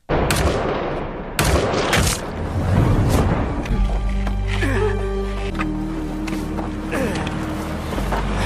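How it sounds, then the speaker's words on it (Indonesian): Soldiers in an action film fire guns at a horde of zombies, making loud, dense bursts of gunfire in rapid volleys. The shots sit inside a busy soundtrack with rumbling engines and tonal effects running underneath. "pasukan militer Korea Utara pun datang dan menembaki semua zombie sampai tak tersisa"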